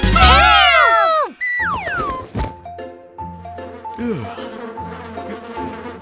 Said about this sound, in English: The mosquitoes are so annoying.